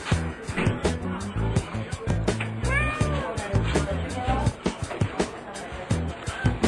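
A cat meows a few times amid a busy, cluttered indoor background with thumps and movement, a fly buzzing around nearby.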